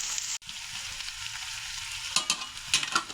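Drumstick thoran being stirred in a pan, a steady close sizzle of frying with a sharp clack near the start and a few scraping stir strokes toward the end, no voices.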